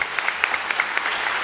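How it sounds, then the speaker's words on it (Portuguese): A church congregation applauding, steady close clapping from many hands with sharp individual claps standing out, brief and continuous. "Vamos aplaudir a Ele. Aplauda mesmo, igreja."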